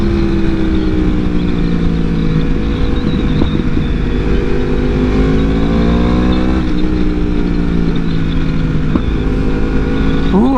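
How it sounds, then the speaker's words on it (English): A Yamaha R1 sport bike engine on a dusty road during a group ride: a loud, close, continuous roar with rising and falling revs and a few sharp backfire pops. "I love when she backfires like that."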